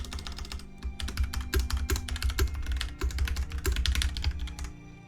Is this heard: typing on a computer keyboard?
yes